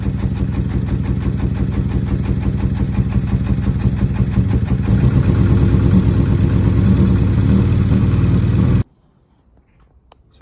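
A Porsche 924 engine with a twin 40 carburettor conversion runs roughly and close by, a steady loud rumble with uneven pulsing that cuts off abruptly near the end, leaving near silence.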